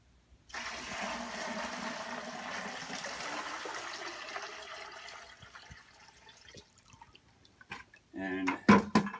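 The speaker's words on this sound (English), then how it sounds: "And putting that much water in" Water is poured into a hydroponic bucket, a steady rushing stream for several seconds that tapers into drips, followed by a few louder knocks and splashes.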